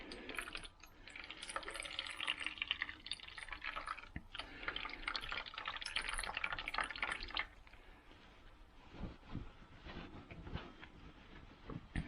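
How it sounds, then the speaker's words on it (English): Water wrung from steamed cauliflower squeezed in a cloth towel, a faint, continuous wet trickle and drip that swells and eases over several seconds, heard alone. "And now we just squeeze all the water out."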